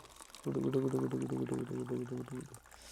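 Hot water poured into a glass, a steady close pour with a gurgling, pulsing quality that runs for about two seconds before tapering off, with no talk over it.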